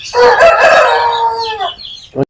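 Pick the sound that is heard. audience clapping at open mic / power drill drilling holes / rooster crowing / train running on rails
rooster crowing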